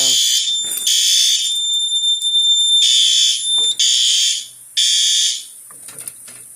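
A Notifier NFS2-640 fire alarm system blares in loud, repeated high-pitched bursts, several pulses separated by brief gaps, close and piercing.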